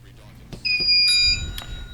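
A time-up buzzer on a high school academic quiz show, heard as a single loud electronic tone of about three-quarters of a second over room noise, with voices from the contest around it.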